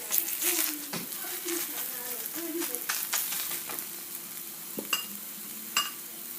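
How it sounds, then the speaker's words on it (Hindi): Makki roti fries in oil on a griddle with a steady, close sizzle, broken by occasional sharp clinks and scrapes of a utensil and brief bursts of spattering. "और इसके ऊपर अब मैं दोबारा ऑयल लगाऊंगी।"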